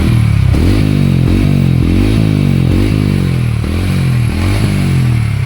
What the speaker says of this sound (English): Let's hear the exhaust note once.